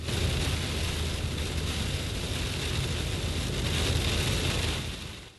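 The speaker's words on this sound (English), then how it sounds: "The rain is coming down steadily." Steady heavy rain during a tornado-warned storm in the Clear Lake area of Houston, a continuous broadband wash holding at even loudness throughout with no voices.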